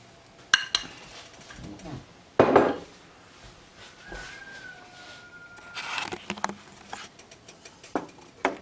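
A spoon stirs honey into rhubarb strawberry sauce in a pot, giving scattered metallic clinks and soft scrapes against the sides, with a faint voice in the background.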